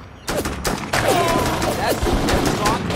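Bursts of rapid gunfire from the video game Full Spectrum Warrior, loud and layered with overlapping shots, while in-game voices talk over the shooting.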